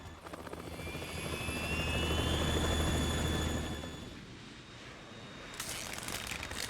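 A Harrier jet's engine roar in Metal Gear Solid 2, a loud, dense rumble with a whining tone that swells and holds before easing off and then rising again, heard alone without speech.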